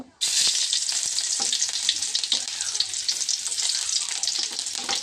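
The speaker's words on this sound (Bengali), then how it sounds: "এখন রান্না করছি ডাল চাপাইছি" Lentils (dal) cooking in a pot in a home kitchen, giving a steady, loud sizzle and frying hiss with occasional stirring clinks, continuous for about five seconds with no talk.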